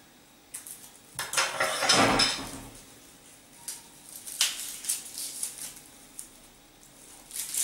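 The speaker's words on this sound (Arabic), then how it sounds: "وتوا نحاسة باش نحطها على النار" A copper cooking pot set down on a stove while preparing an eggplant and mushroom stew with fava beans and chickpeas, giving a loud metallic clatter and scrape near the start, then lighter clinks and knocks at close range.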